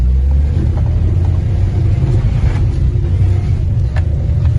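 A car engine labours in first gear while climbing a steep off-road hill in Coorg, a loud continuous low rumble with steady strain and faint rattles of the vehicle over rough ground.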